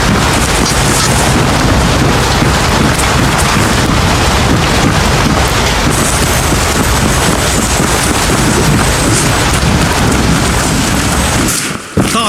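Rain falls in the open-world video game Where Winds Meet as a loud, dense, unbroken downpour hiss that cuts out abruptly just before the end.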